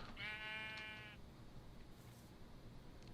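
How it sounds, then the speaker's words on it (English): A sheep in Minecraft gives one short, quavering bleat near the start, then only faint ambient background remains. "Where are the sheep?"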